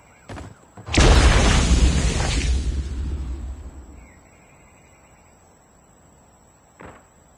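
An EMP grenade goes off in Call of Duty Mobile, one loud booming blast after a brief click, then a crackling roar that fades over about three seconds, with a short thud later.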